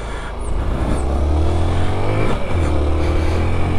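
A 2014 Honda Bros 150 motorcycle engine running close by, a loud steady drone with a low throbbing tone that rises and falls slightly as the throttle shifts, with no speech.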